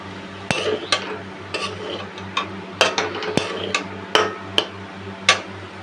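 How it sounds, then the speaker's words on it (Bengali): A metal spoon clinks and scrapes against a plate and pot as rice is served for a girl's lunch in a home kitchen, a run of sharp, close, irregular taps with a faint steady hum underneath. "আমি এখানে একটু মেয়ের জন্য ভাত বেড়ে নিচ্ছি"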